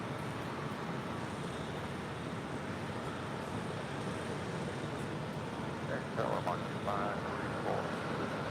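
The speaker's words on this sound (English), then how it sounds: "1366 departing to Houston Intercontinental on a 737-900ER" A Boeing 737-900ER jet departs LAX as a steady, broad roar that holds at an even level throughout, with a few brief higher tones near the end.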